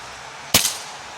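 A single sharp crack from a tuned Gamo Urban air rifle, fired close by, with a brief decaying tail and no voices.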